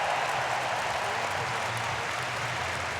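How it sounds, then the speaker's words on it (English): Spectators at a Berlin 2018 athletics meeting cheer before a men's 110m hurdles semifinal, a broad, steady wash of crowd noise with a commentator talking over it. "And big cheers from the crowd here"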